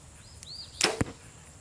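A 2025 Prime Form compound bow shoots an arrow downhill toward a solid back wall. A quiet draw is followed by a sharp, loud release snap and then a quick thud of impact a moment later.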